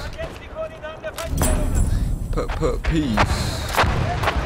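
Artillery fire in a Battlefield 1 Rush match, with heavy booms and thuds recurring through the battlefield din, a few sharp blasts standing out over a constant low rumble while someone talks.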